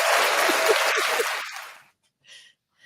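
Applause from a small audience at a fan-panel style show claps loudly and steadily, then fades out in under two seconds, followed by a brief distant voice.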